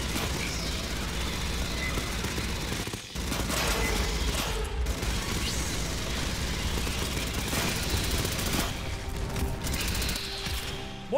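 Gunfire in the Aliens: Fireteam Elite video game, long rapid bursts of automatic fire broken by brief gaps, loud and close with mechanical clatter, sustained over about eleven seconds.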